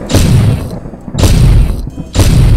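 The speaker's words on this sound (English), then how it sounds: "Shotgun." Three heavy, booming shotgun blasts from the video game Anikila vs Alien Pumpkins, loud and close, evenly spaced about a second apart, each with a sharp attack and a short decaying tail.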